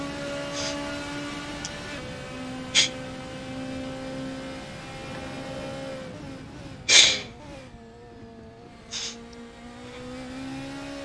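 Race car engine heard onboard during a lap in a racing game, a steady tonal whine that climbs and drops through gear changes, with a few sharp bursts and pops along the way.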